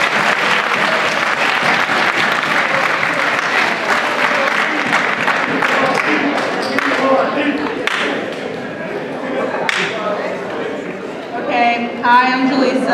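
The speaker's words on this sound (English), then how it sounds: "So, give a round of applause to them." A high school town hall audience breaks into dense, loud applause that thins over several seconds, while voices and chatter rise through it and a person begins talking near the end.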